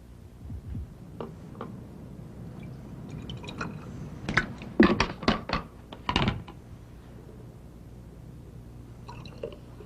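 A chemical reaction bubbles in liquid, soft fizzing with a cluster of quick popping and dripping bursts in the middle, near and fairly faint, then trailing off to quiet.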